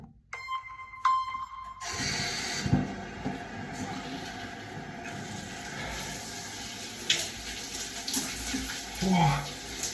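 Cold shower water running, beginning after a short pause with a sudden rush, then a continuous moderate splashing spray with irregular shifts as it strikes a body, plus brief gasps or vocal sounds.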